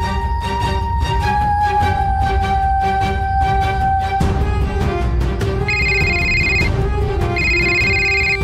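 A telephone rings with repeated electronic tones over a busy, loud music background. The later rings are sharp and pulsed.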